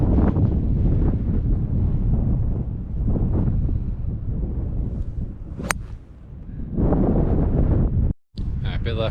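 Gusting wind buffets the microphone on a golf course, a loud continuous low roar rising and easing in waves, with a brief sharp click partway through and a short dropout near the end.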